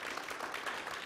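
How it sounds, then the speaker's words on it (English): An audience at a talk on trade enforcement gives a short burst of dense, steady clapping that fills the whole moment without any voices over it. "let's give a big round of applause to John"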